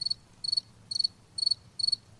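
Crickets chirp in five evenly spaced bursts of quick pulses, clear and fairly close over a quiet low background hum, with no voices.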